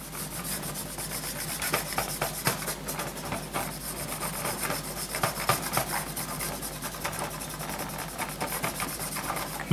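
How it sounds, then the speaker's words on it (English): Soft, steady rubbing with a cloth over the grimy roof of a 7mm-scale Heljan VAA model wagon, a light, continuous scratchy rasp close by with small irregular strokes and no talk. "Not rubbing hard, and just giving it just a general clean"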